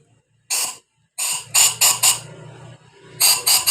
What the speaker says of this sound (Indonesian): kita masukkan bensin seperti ini dan kita semprot menggunakan angin